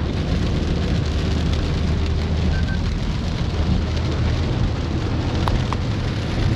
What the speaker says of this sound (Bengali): চরম বৃষ্টি হয়।